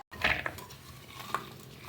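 Sliced green beans tipped into a metal pot for beans Manchurian, a brief clatter and rustle of beans against the pot followed by a few light clinks, close and alone.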